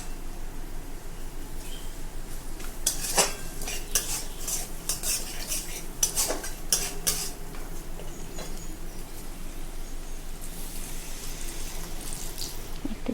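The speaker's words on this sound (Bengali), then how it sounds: "ভালোভাবে নেড়ে চেড়ে একটু ঢাকা দিয়ে নেব।" A spoon stirs lightly salted tomatoes in a cooking pan, with repeated metallic scrapes and clinks over a soft background sizzle, then quieter cooking.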